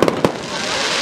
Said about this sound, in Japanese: バラバラバラ、 これが中央の花火なんですよ